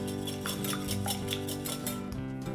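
Utensil clinking and scraping against a bowl as a cracked egg is whisked for chocolate hazelnut cookie dough, a steady run of small taps over quiet background music.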